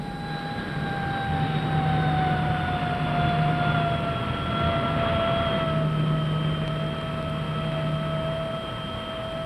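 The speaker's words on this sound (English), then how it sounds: "this is the pilot's view as he brings the comet in to land and to taxi across Calcutta's airport of Dum Dum" A de Havilland Comet jet airliner landing and taxiing at Calcutta's Dum Dum airport, a steady droning jet-engine whine with sustained tonal hums over a constant rumble, no voices.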